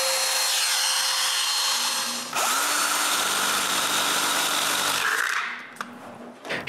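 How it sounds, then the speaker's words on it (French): A power tool, likely a router, whines steadily while trimming excess Formica laminate on a wooden bandsaw build, the pitch dipping as it bites into the material and then spinning down near the end. "j'enlève le formica en trop là aussi"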